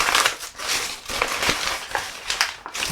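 Craft material crumpled again in the hands to create a faux leather look, close, crisp crinkling and crackling in repeated uneven bursts with no talking.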